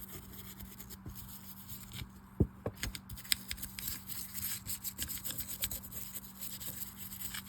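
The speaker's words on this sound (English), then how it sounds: "rub every part of it down good with my acid brush" An acid brush scrubs the parts of a Heddon 205R High Speed fishing reel, giving close, quiet bristly rubbing and scratching strokes in an uneven rhythm with a few sharper taps.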